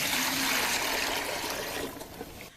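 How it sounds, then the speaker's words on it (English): Water is poured into a bucket holding welding terminals, a loud continuous gushing splash that tapers off near the end. "Now we'll put in our water."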